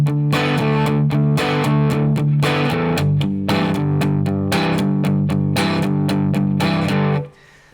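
Distorted electric guitar strums chords, moving from D back to G in loud, rhythmic, choppy bursts with short gaps, then cuts off at the end.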